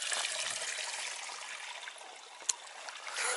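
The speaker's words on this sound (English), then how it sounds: "it's even got like a little lip coming out where the water's flowing" A small outdoor stream trickles over a little lip into a miniature pool on a countryside walk near Rowberrow Camp, a steady close hiss of running water with one brief sharp knock partway through and no talk.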